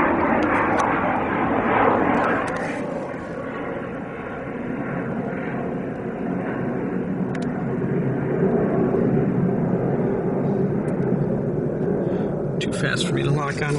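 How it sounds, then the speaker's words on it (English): Military jet passing overhead, heard as a loud, sustained, broad roar that swells and slowly fades across the whole stretch, with a short exclamation near the start. "Oh! Military jet."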